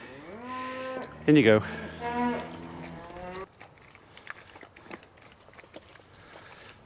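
Cattle moo loudly and drawn-out while being herded into a TB handling pen, one sharp bellow standing out, followed by shuffling hooves and movement, with someone briefly speaking.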